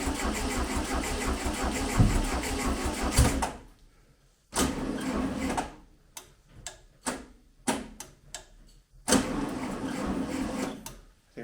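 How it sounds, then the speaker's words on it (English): A 1971 VW Beetle engine is cranked on a tired starter in repeated bursts, a long grinding crank followed by several shorter stop-start attempts with quiet gaps between them, close and fairly loud. "I think that starter might be a bit the tired side of things."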